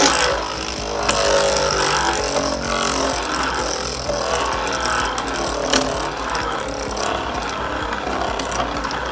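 A Beyblade spinning top ripped from a ripcord launcher, followed by a steady, dense whirring and grinding rattle of the top spinning in a stadium, loud and close, with no talking over it.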